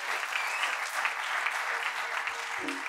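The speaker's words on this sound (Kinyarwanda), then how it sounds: "dukomere Yesu amashyi menshi" Applause from a church congregation, steady and fairly faint, a continuous patter of many hands clapping together with no voices standing out.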